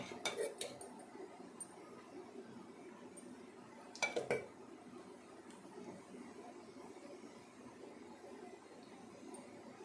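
Metal pots and plates clink in a couple of brief clusters as idli batter goes into a steamer and a plate is set inside, with quiet kitchen ambience between.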